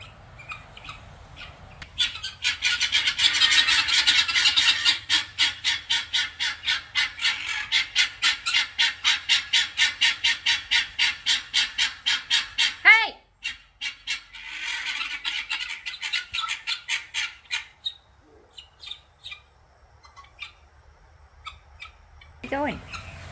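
Guinea fowl squawk loudly in a fast, rapid-fire run of harsh repeated calls, pause briefly, then resume with a looser series of shrieks nearby; a person talks at moments under the birds.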